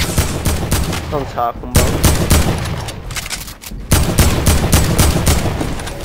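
Rapid bursts of gunfire in a Fortnite match, loud and repeated in clustered volleys with short pauses, while players talk over the shooting.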